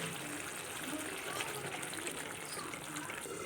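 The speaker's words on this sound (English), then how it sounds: "Now I am adding some more of water and making the onion get softer." Water pours and gushes steadily into a cooking pot of softening shallots for a spiced gravy, a soft continuous splashing heard close but quietly.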